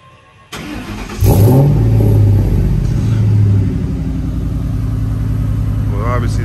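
A slammed 1967 Ford F100 with a swapped 4.6L engine cranks and catches, then roars up in a loud rev before settling into a steady, throaty idle, close by, with people talking faintly over it.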